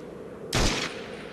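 A single loud burst of gunfire erupts in Medal of Honor European Assault, a sharp blast that rings out briefly and fades against a low ambient hum, with no talking.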